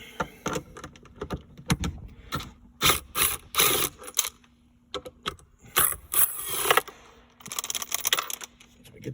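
A power gun zips two 10 mm bolts off a 1.6-litre turbo Elantra Sport during a short shifter install, giving several sharp ratcheting bursts separated by brief pauses, close and loud.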